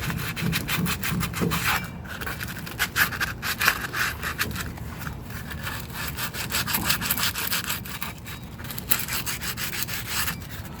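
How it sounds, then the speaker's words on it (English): Sandpaper rubbed by hand around the rear brake hub of a Ford F-150, a close, continuous gritty scraping in quick back-and-forth strokes with no talking. "I'm going to take my sandpaper, and the areas I couldn't get to, particularly around the hub"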